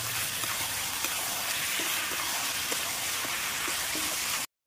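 Meat and skin frying in oil in a pan with onion, ginger and garlic, giving a dense, steady sizzle with faint clicks of stirring, until a sudden cut to silence at the very end.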